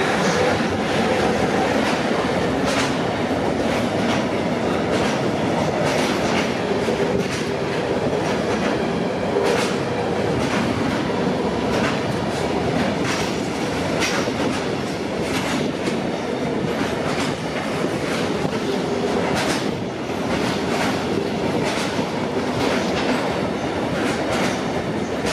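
Trains passing through Pescara Centrale station on the Adriatic line, a steady loud roar of a train rolling close by with repeated clickety-clack wheel beats throughout, no voices.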